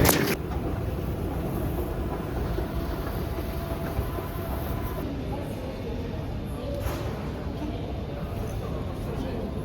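Rome metro train running, a steady low rumble and rattle of carriages with occasional brief high squeals, as people talk nearby.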